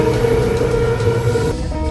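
A moving passenger train gives a loud, continuous rumble with a steady droning tone and a dense rattle throughout, heard from on board with no talking.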